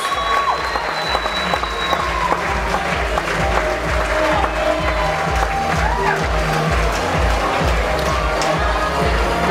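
Sustained applause from a large crowd at a beauty pageant final fills the room, with scattered cheers and whoops rising over the steady clapping.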